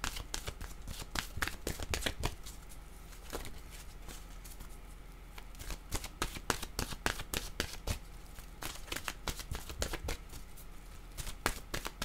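Oracle deck cards shuffled in a long, irregular run of sharp snapping flicks, close and fairly loud, some clustered in quick bursts, others spaced apart.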